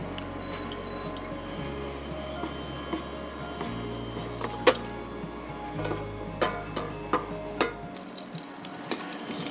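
Soft sizzling crackles from onion browning in a pan, with scattered pops and a low mechanical hum underneath that cuts out near the end.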